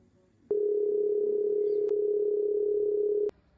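A steady telephone tone sounds while a call is being placed, a single unbroken electronic hum lasting about three seconds, clear and close, then cutting off, with brief clicks around it and no talk.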